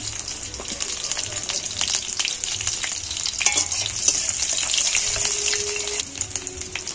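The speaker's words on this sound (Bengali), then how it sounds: "এখানে কাঁচা লঙ্কা কুচিয়ে রেখেছি, কাঁচা লঙ্কা কুচানোগুলো দিয়ে দিন।" Nigella seeds and chopped green chillies fry in hot oil, giving a steady, fairly loud sizzle with occasional stirring scrapes, no voices over it.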